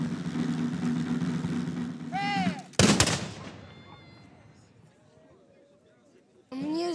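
Gunfire from historical reenactment weapons at an outdoor event: one sharp loud shot cracks out and its echo dies away, with people talking nearby before and after.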